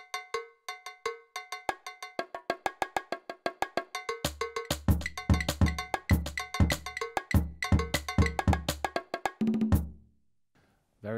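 A run of band and orchestral percussion hits from a Yamaha DTX450K electronic drum kit, with bright, cowbell-like strikes in quick rhythmic patterns. Deeper booming hits join partway through, and the passage ends in a short silence.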